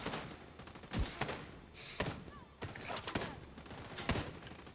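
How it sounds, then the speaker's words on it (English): Video game gunfire rings out in loud, sharp bursts and single shots, spaced irregularly over several seconds. "Gonna shoot it again."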